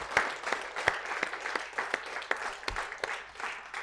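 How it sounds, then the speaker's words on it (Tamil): An audience claps at a celebration of a show's 200th episode, a modest, uneven round with distinct individual claps standing out over a softer patter. "ஸோ ஒரு பெரிய கைத்தட்டல் கொடுத்துடலாம்."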